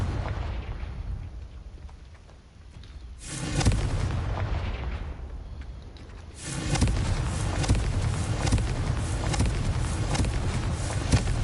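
Spell blasts from a Hogwarts wizarding video game, with two loud, sustained bursts of booming, crackling energy, the first brief and the second rolling on for several seconds, over a low game ambience.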